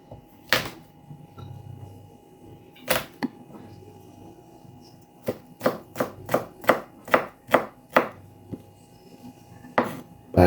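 A knife chops garlic on a board in a home kitchen while ginataang langka is being prepared: a few isolated knocks, then a quick run of about eight sharp, evenly spaced cuts, close and clear, with a final stroke near the end.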